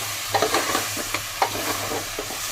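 Chicken adobo with bay leaves being stirred in a pan, a steady scraping and clatter of the utensil over a soft sizzle, with brief louder strokes spaced irregularly.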